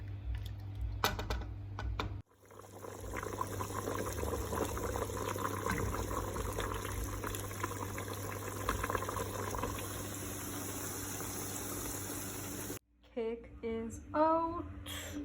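Curry goat with potatoes bubbles in a pot as a steady simmer, a continuous gurgling hiss running for about ten seconds before cutting out, with brief clatter and noise around the start and end.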